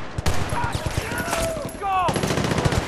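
Bursts of suppressing gunfire in the video game Battlefield: Bad Company 2, dense rapid shots crackling over a busy battlefield mix with shouted voices and a sweeping whistle-like tone midway.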